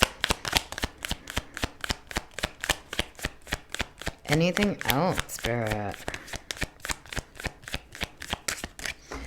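Tarot cards are shuffled by hand in quick, rhythmic flicks and taps, close and crisp. A voice speaks briefly midway while the shuffling continues.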